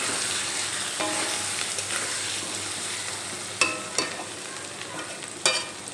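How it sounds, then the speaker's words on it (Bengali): Ground spices, chili powder and turmeric, fry in a pan for an omelette curry, giving a steady sizzle with a few sharp spatula scrapes and knocks near the end, no voices. "গুঁড়ো মশলা দিয়ে একটু নেড়ে চেড়ে নেব।"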